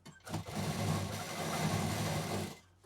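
A sewing machine runs steadily, stitching piping onto a handmade duffel bag, with a continuous close whir that starts after a short pause and stops abruptly near the end.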